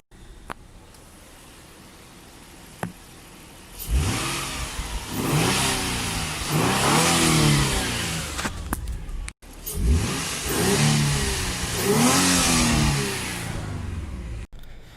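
A Nissan 350Z fitted with a Mishimoto performance air intake is revved repeatedly, its engine note climbing and falling in several rising sweeps over a steady idle, close and loud, with no voices.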